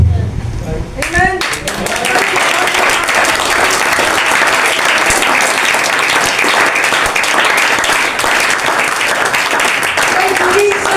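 Church congregation at an eleventh anniversary service bursts into loud, sustained clapping and applause from a large crowd, dense and continuous after a brief opening moment.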